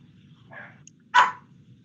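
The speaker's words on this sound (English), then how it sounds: "Ellie, you need to stop barking." A dog named Ellie gives a couple of short barks indoors, a softer yip followed by a sharper, louder bark, close by over a low steady hum.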